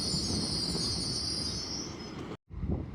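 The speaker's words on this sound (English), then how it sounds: "Departing now will be your heavily delayed 1420 LNER Azuma service from Edinburgh Waverley to London King's Cross" LNER Azuma train departing Newark Northgate on the East Coast Main Line, a steady rolling rumble with a high wheel squeal held above it, cut off abruptly near the end before a brief return of rumble.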